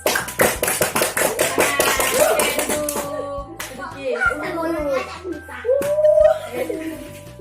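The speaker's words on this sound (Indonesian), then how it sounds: "tepuk tangan untuk Ajis" Children in a classroom clap their hands in a brisk burst of sharp, closely spaced claps for about three seconds, then the clapping stops and young voices chatter and laugh nearby.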